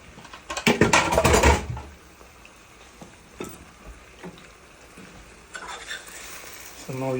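A pot of cod fish, okra and spinach being stirred: a loud burst of scraping and clinking near the start, then scattered softer spoon scrapes against the pot over a low background.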